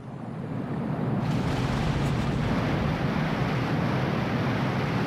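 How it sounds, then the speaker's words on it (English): Water draining away in the Skyward Sword game, a steady loud rushing wash of flowing water that swells in after a second and holds without talk. "I don't know where all this water is going"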